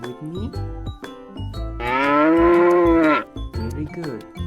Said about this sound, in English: And now I'm next to the other cow.